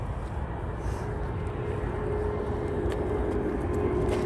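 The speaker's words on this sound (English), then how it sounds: "Just as a plane goes overhead." A fixed-wing airplane passing overhead at an outdoor riverside gathering, heard as a steady, broad low rumble that holds at a fairly even level for several seconds with no talk over it.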